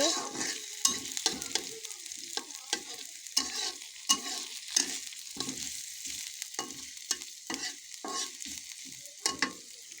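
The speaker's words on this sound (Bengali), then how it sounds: "কড়াই নাড়াচাড়া করা হচ্ছে" A spatula scrapes and stirs onions sizzling in a wok, with rhythmic scraping strokes over a continuous frying hiss, close up.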